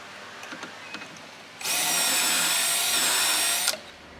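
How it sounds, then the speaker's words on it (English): A power drill drives pocket screws into a wooden frame for a vegetable garden planter box, starting abruptly with a loud, steady whine for about two seconds before stopping, after a few light knocks, outdoors. "start drilling those pocket screws so I get that done before I do anything else"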